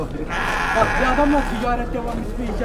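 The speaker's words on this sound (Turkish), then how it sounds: "Kuzulu koyun. İkiz kuzulu." Sheep and lambs, including ewes with twin lambs, bleat repeatedly at a busy outdoor livestock market in İvrindi, Balıkesir, several overlapping calls close by amid crowd murmur and voices.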